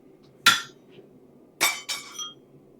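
A hammer strikes steel plates during fabrication of a blacksmith's tool, giving three bright metallic clinks: one single hit, then two close together, loud and near in a quiet shop.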